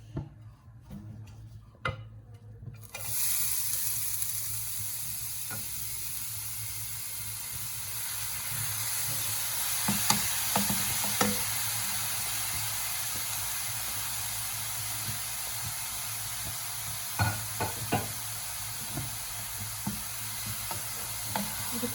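Carrots for carrot halwa drop into a hot kadai with a clattering rush and settle into a steady sizzle and hiss. Scattered clicks and scrapes of stirring come through over about twenty seconds.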